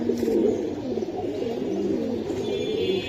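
A pigeon coos nearby, a few soft low throaty rolls in a short sequence, fairly faint and alone against quiet background noise.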